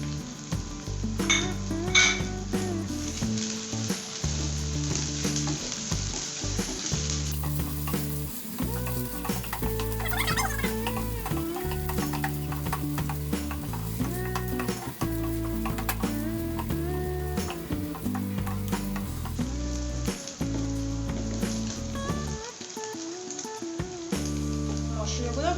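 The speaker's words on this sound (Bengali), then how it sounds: "মশলাগুলো ভাজা প্রায় শেষ।" Onions fry in a pan with ginger and garlic paste, giving a steady close sizzle throughout with frequent stirring scrapes and clinks of a spoon against the pan.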